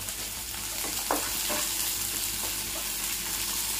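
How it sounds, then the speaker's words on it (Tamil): Onions sautéing in a pan for Andhra-style ginger chutney, a steady broadband sizzle throughout with a few soft stirring scrapes, close and moderately loud, no talking. "வெங்காயம் சேர்த்து அதையும் சேர்த்து நல்லா வதக்கிக்கலாம்"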